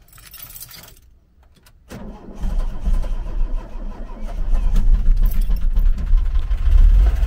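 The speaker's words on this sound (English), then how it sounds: "the engine has to tick over in neutral" A VW T25 Vanagon engine ticks over in neutral, a low steady idle rumble that follows some quiet rattling and handling noises, then grows and holds fairly loud and close with no talk.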